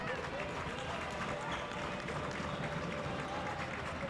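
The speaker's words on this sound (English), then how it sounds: "Crowd getting loud here in the Kettle." Spectators in a college basketball gym roar during free throws in a men's game, a dense, steady wall of crowd noise with a commentator talking over it.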